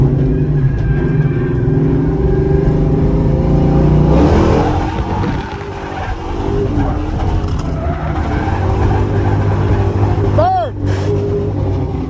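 A drift car's engine revs and roars at a drift event, loud and sustained with tyre skids and shifting pitch, while people talk over it throughout.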